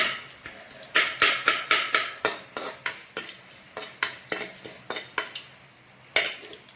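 Coriander, ginger and garlic sizzle and pop in a hot frying pan for a tomato rasam, with a dense run of sharp, evenly repeated crackles and spits close by, steady then briefly pausing before another burst.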